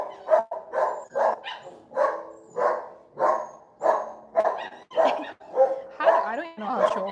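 A small dog barks repeatedly in short, sharp bursts at a fairly steady rhythm, close by, with no talking.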